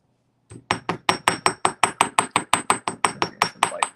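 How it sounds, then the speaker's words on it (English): A chasing hammer strikes jewelry wire on a steel bench block in a rapid, even run of about sixteen sharp metallic taps. The taps are close, bright and ringing, follow a brief silence and play alone without talk. "Come in with, I believe it's a chasing hammer, and make sure the shape is what you want before you start hammering"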